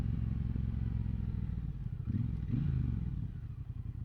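Low, steady rumble of a 2024 Triumph Bonneville Bobber motorcycle engine pulling under acceleration, heard at moderate level from the rider's position, with a brief clatter midway and no talking.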